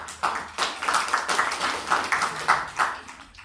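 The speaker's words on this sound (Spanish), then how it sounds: "Un aplauso para acá para el amigo Bermún." Applause at a medical lecture on esophageal atresia, heard as sparse, distinct hand claps in an irregular patter from a small group, moderately loud and close.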